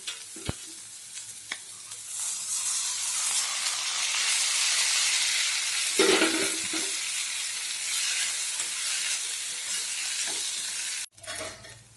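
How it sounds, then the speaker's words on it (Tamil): Red rice flakes fry with sautéed onions in a hot pan, giving a steady, close sizzle and hiss with scraping stirring sounds throughout and a brief louder stir partway through. "இதில் இந்த அவலை நம்ம சேர்த்துடலாம்."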